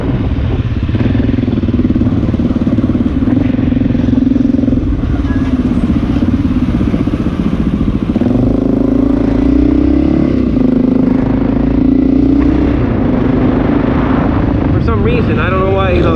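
Honda XR650L motorcycle fitted with a Lexx aftermarket exhaust, running steadily at a loud, deep idle with a constant low rumble throughout and slight revving toward the end.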